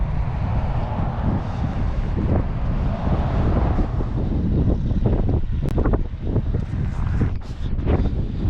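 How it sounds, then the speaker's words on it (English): Strong wind on Lake Superior's north shore near Marathon, Canada roars and buffets the microphone throughout, a steady low rumble with gusty bursts and a few sharp knocks near the end. "It's crazy windy"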